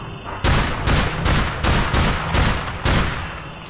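Shotgun blasts in the APB Reloaded shooter, seven loud, heavy shots fired in a steady rhythm about half a second apart, close and alone with no talk.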